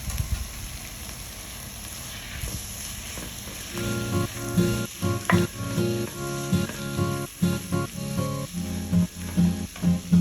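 Tomatoes sizzle in a hot pan while frying for Kerala-style chicken dum biryani, a constant close hiss broken by rhythmic scraping thumps of stirring in the second half.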